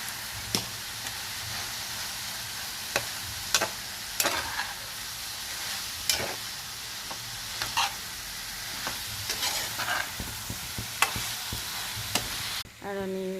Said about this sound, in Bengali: তারপর এটাকে চিনির শিরার মধ্যে দিয়ে এবার পাকিয়ে নিতে হবে